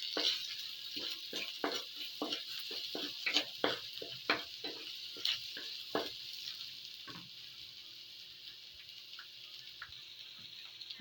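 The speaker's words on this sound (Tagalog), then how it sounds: "i-mix na natin yung ating luncheon meat" Onion, garlic and luncheon meat frying in a pan, a soft steady sizzle under a series of quick stirring scrapes and taps, close and fairly quiet.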